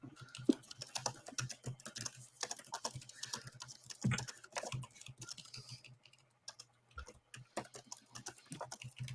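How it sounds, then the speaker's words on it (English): Fingers type quickly on a computer keyboard in irregular bursts of light clicks and key taps, fairly quiet and close, with short pauses between flurries and no talking. "I hear your fingers furiously typing, Zen."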